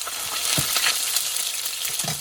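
Salmon fillet frying skin-side down in a non-stick pan, giving a loud, steady, close sizzle and crackle with faint bursts of spatter, with no talking.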